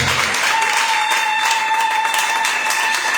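A church congregation applauds together in steady, dense clapping that stays loud and even throughout, with a faint sustained tone underneath.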